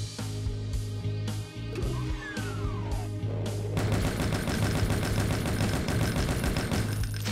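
Gunshots in the video game Brutal Doom: several sharp, evenly spaced blasts, then a dense, continuous burst of rapid fire over a steady heavy-metal music bed.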